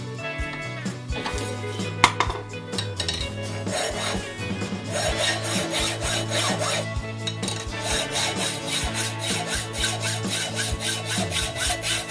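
A spent 30-30 rifle casing is sawn through by hand, a brisk repetitive rasping stroke that speeds into a steady rhythmic back-and-forth, close and fairly loud, with faint metallic ringing.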